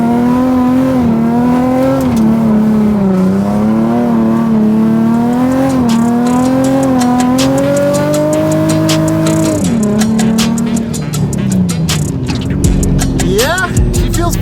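A 500 WHP Toyota FR-S sports car with Wisefab 350Z parts revs hard while driving, its engine note rising and falling loudly through repeated pulls before easing off, with tire and road noise near the end.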